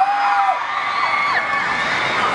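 Fans at a live CBS FM public radio broadcast at Lotte World cheering for Henry, a loud sustained crowd roar with high-pitched screams and shrieks blending together, continuous and close.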